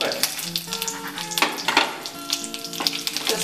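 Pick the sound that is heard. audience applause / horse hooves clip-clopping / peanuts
peanuts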